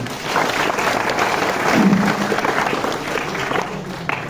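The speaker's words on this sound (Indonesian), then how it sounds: "tepuk tangan buat Mas Abian" Applause from an audience at an Isra' Mi'raj religious lecture, clapping for a young man named Abian; dense, steady clapping throughout, with a faint voice briefly under it.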